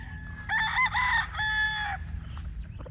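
Black Gilmore gamefowl roosters crowing, one loud near crow of about a second and a half followed by a second crow, over a steady low background rumble.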